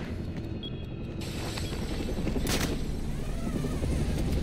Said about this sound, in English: guess the fireworks are going off early